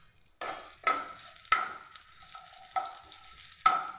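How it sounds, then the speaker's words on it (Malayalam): Dried red chillies, chopped shallots and mustard seeds frying in hot oil in a pan, giving a steady close sizzle broken by several sharp stirring scrapes and clinks, with no voices over it. "നമ്മളൊരു പാൻ അടുപ്പത്ത് വെച്ച് കുറച്ച് എണ്ണ ഒഴിച്ച് വെച്ചിട്ടുണ്ട്. അതിലേക്ക് കുറച്ച് വറ്റൽമുളകും ചുവന്നുള്ളി അരിഞ്ഞതും കടുകും"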